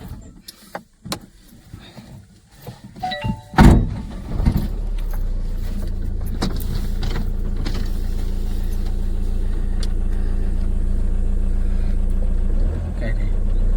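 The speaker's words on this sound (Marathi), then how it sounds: "हा लॉक खोलय" Keys jangle and click into a lock to open it, a sharp burst of metallic rattling followed by a car's electric window whirring steadily as the engine hums, with a voice talking in between.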